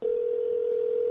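A telephone dial tone from Apple's iPhone Starbucks prank-call demo holds as a single steady, clean tone for about a second, loud and alone.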